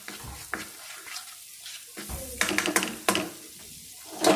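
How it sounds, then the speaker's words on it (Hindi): Garam masala and red chilli powder fry and sizzle in a pan, with a soft crackle broken by a few sharper scraping stirs close by and no talking. "Half spoon red chilli powder कुछ सेकंड्स के लिए कुक करेंगे ताकि मसालों की कच्ची स्मेल दूर हो जाए।"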